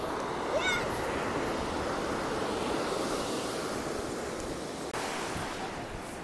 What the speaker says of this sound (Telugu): మరి ఫైనల్లీ బీచ్ కి అయితే వచ్చేసాం.